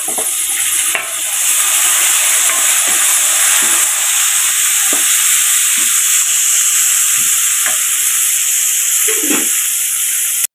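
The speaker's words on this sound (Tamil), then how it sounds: "ரெண்டு நிமிஷம் வதக்கட்டும். வெங்காயம் நல்லா வதக்காச்சு." Onions and tomato sizzle steadily in a hot pan, a constant loud frying hiss broken by occasional scraping stirs.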